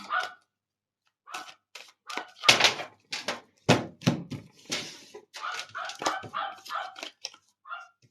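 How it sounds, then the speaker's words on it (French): The neighbour's female dog barks in a string of sharp, separate woofs, some loud and close and others softer, with pauses and a few knocking thumps between them. "Là, c'est la chienne de la voisine."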